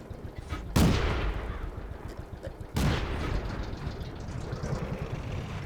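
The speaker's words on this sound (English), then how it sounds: "Let me see if I can take a shot here. Yeah, that shot went low." Two loud tank cannon blasts in the World of Tanks video game, each a sharp boom that fades into a long rumbling tail, spaced about two seconds apart over steady background rumble.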